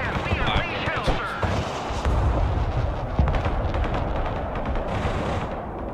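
Heavy artillery barrages and gunfire rumble from a modern military battle in the strategy game Broken Arrow, dense and continuous with booming low impacts, while a voice talks over the din.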